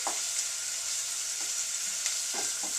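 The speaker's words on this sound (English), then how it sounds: "We're not going to try to caramelize the onions. We just want to break them down a little bit." Onions softening in a pan on the stove, a steady close frying sizzle with a few short scrapes of stirring breaking through it, no voices.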